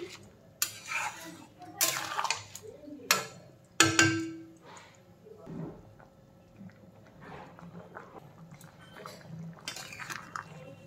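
Vegetables stirred in a pot of simmering curry with potatoes, eggplant and prawns, giving a series of loud metallic scrapes and clanks of a spoon against the pot, spaced irregularly, then quieter clinks and bubbling.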